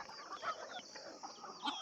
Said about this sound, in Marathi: आपल्या कोंबड्यांना मुक्त फिरण्यासाठी बघा इकडं